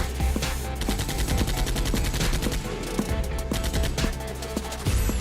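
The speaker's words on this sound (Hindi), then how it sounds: "वहीं ड्रैको नेक्सस और वैनम वेब के बीच फायरिंग शुरू है।" Cartoon gunfire in a fight between Draco Naxus and Venum Web, rapid machine-gun bursts and repeated sharp shots firing in quick, steady rhythm, loud and close with no talk.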